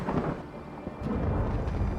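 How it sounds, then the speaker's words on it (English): Steady rain pours in Skyrim under a low, rolling rumble of thunder that swells partway through, broad and fairly loud with no voices. "This looks like a good place to rest and wait out the rain."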